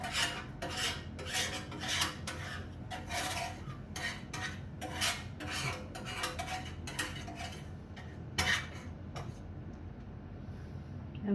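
Meat juices from a roast beef being deglazed in a frying pan, with continuous scraping and clinking of a utensil against the pan in quick irregular strokes, close and fairly quiet.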